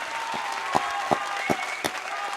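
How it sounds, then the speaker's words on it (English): Studio audience clapping with sharp accented claps standing out every few tenths of a second over a steady patter of hands, fairly loud and close. "A round of applause."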